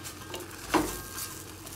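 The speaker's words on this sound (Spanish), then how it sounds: "yo ya puse aquí la mantequilla aquí en esta cazuela, que se vaya diluyendo" Butter melts in a clay cazuela with a faint, soft sizzle, and a single light clink of a utensil against the pot sounds midway.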